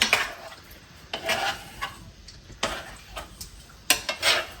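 A spoon scoops tomato sauce with meatballs from a cooking pot for spaghetti, producing several separate metallic clinks and wet scrapes at irregular intervals over a quiet background.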